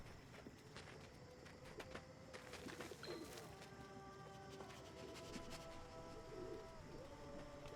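A pigeon in the video game Endling coos softly a couple of times. The faint calls sit under a low, rumbling in-game ambience with light scattered clicks.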